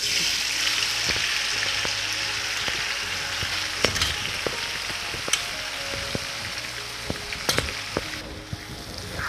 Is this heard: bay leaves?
yes